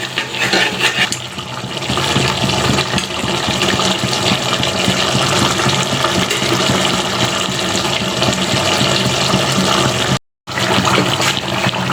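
A steady, loud rush of water poured into a cooking pot of tomato curry runs close by for several seconds, with a brief cut near the end.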